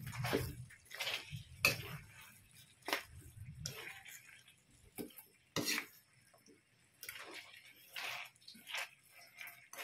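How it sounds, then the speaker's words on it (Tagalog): Chicken adobo with potatoes being stirred in a pot, giving scattered scraping and clinking knocks with a few soft wet splashes, close and moderately loud. "Lagay na natin yung patatas. Haluin natin."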